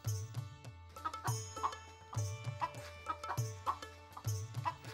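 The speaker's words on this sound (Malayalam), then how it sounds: "അടുക്കള മുറ്റത്ത് വളർത്താൻ പറ്റും വിധം എന്ന നിലയിൽ തന്നെയാണ് സ്വർണ്ണധാര കോഴികളെ വികസിപ്പിച്ചെടുത്തത്" Swarnadhara chickens raised in a backyard flock cluck in repeated short bursts, steady and close, with no talking over them.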